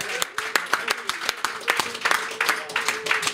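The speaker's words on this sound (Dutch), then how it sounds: "Nog één keer applaus, Wim Hof." A live audience applauds with rapid, dense clapping, close and lively, while people talk and call out over it.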